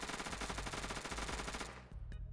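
Rapid automatic gunfire from the online shooter game Phantom Forces, a dense, loud burst of evenly spaced shots for nearly two seconds, then breaking off into a few scattered trailing sounds.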